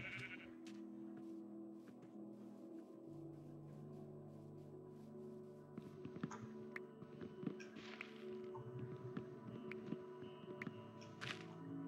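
Video game sheep bleat in a short series against a steady ambient game music bed, with an intermittent soft thunk and footstep-like taps.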